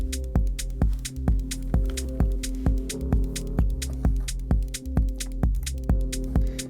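Hypnotic techno groove with a deep rumbling sub-bass built in Ableton Operator under a steady four-on-the-floor kick, with ticking hats over a sustained low throb, looping evenly and moderately loud with no voices.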